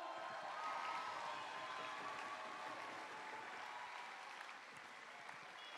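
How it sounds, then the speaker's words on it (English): An audience at an Institution of Engineering and Technology education event applauds steadily throughout, a dense, fairly soft wash of clapping that tapers slightly toward the end. "Let's hear a nice big round of applause. Big clapping, come on."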